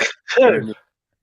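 A short sharp sneeze, preceded by a brief breathy intake, close to the microphone, then silence.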